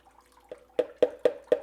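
Dirty gold paydirt concentrates are poured into a pan of water, giving a short run of sharp splashy plops that land one after another, close and fairly loud, with no talk over them.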